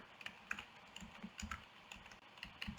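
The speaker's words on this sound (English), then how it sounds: "Let me type it in here for you." Quick, uneven clacking of keys on a computer keyboard, a steady run of close taps and a few louder strokes, quiet with no voices.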